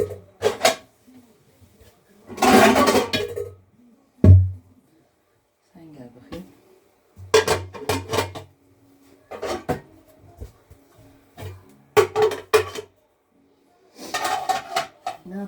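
Pots and plates clatter and clank in bursts as they are handled and set down, with a few quieter knocks in between and voices nearby.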